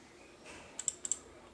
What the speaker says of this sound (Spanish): Dos clics.